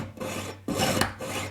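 A piercing saw cuts a straight line through jewellery metal with steady, rasping back-and-forth strokes, close and fairly loud, heard alone.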